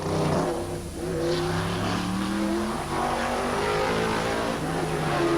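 Trans-Am race cars battling at the 1982 Trois-Rivières street race roar past together, two engines droning and shifting pitch at high revs, loud and continuous.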